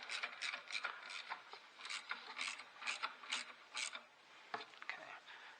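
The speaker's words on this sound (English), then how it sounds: "So I'm going to tighten these 10 millimeters all the way." A hand tool tightens 10 mm bolts on the EGR valve of a 2004 Ford Focus Zetec in a garage. Quick, close ratcheting clicks come in repeated short bursts, each separated by a brief pause, then a few slower clicks at the end.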